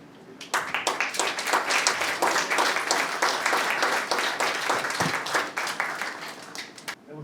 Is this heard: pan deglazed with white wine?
no